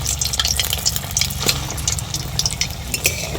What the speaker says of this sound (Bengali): আবারও কিন্তু ওইভাবে ভেজে নিচ্ছি।